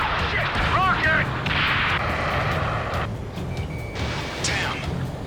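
In the Ace Combat 7 video game, rocket strikes and heavy explosions crash repeatedly amid combat noise, with rising whistling tones and intermittent beeps, and voice chatter mixed in underneath.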